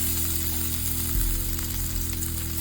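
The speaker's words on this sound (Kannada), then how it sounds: "ಎಣ್ಣೆ ಬಿಸಿ ಆದ್ಮೇಲೆ ಹಾಕಿ. ಒಂದೊಂದೇ ಪೀಸ್ ಪನ್ನೀರನ್ನ ಹಾಕಿ" Paneer pieces frying in hot oil on a tawa, a steady, close sizzle with a dense crackle that holds level throughout, with no talk.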